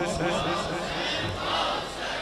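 A crowd at a Karbala religious gathering chants a slogan back in response, a dense blended roar of many voices lasting a couple of seconds.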